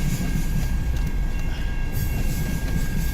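CN M383 southbound freight train with new tank cars and lumber cars rolling past in Richmond, Michigan, a loud continuous close rumble and rattle of wagons, steady throughout, no talking.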